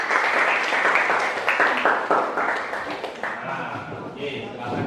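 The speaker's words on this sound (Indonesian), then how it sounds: "Kita berikan tepuk tangan dulu." A classroom full of people claps steadily for a few seconds after group presentations, with voices murmuring over the applause as it winds down.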